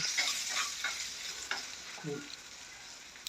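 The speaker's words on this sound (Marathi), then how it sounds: "फोडणी ढवळून घेत आहे" Spice tempering with dried red chilli pieces crackles and sizzles in hot oil as a spoon stirs, with a few soft scrapes against the pan; no talking.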